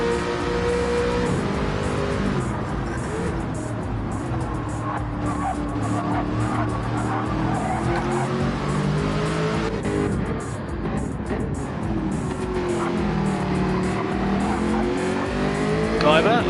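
A race car in a racing video game on a sighting lap on medium tyres, a continuous loud engine drone with shifting revs and tyre squeal, under steady commentary.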